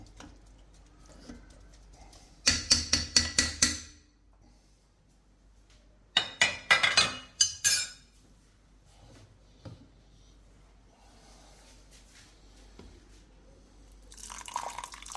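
Water poured gently down the side of a cooking pot in three separate bursts, each a close, bright splashing pour lasting a second or two, with quiet pauses between.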